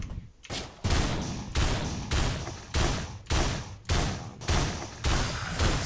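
Gunfire from a gun in the Risk of Rain video game, a run of about nine heavy, evenly spaced shots with short decaying tails, loud and up front with nothing else over it.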